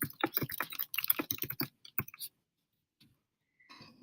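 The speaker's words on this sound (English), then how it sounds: "type my message" Fast, close clicking of keys as a message is typed on a computer keyboard, a dense flurry for about two seconds, then quiet with a few faint taps.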